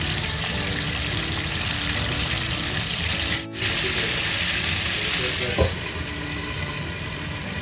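Small chicken pieces, coated with salt and zarda colour, frying in ghee and oil, a continuous loud hiss and sizzle with a brief dip midway and a faint clink near the end.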